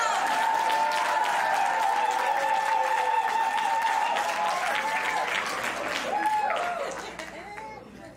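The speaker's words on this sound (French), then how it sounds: "lui donner une bonne main d'applaudissement dès maintenant" A large audience at a university red-carpet show claps and cheers loudly in a sustained wave of applause that fades toward the end, with a voice speaking over the crowd.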